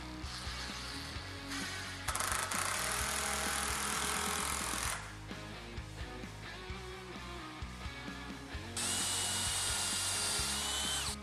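A power drill pre-drilling holes near the edges of wooden boards for a CNC table build, with whining bursts of the motor starting and stopping between quieter handling and clunks of wood.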